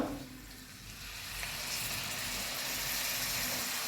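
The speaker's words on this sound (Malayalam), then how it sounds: "ഇതിലേക്ക് കുറച്ച് വിനാഗിരി ഒഴിച്ചു കൊടുക്കാം" Vinegar poured into a hot hog plum pickle mixture sets off a steady, close sizzle that hisses evenly for several seconds with no voices over it.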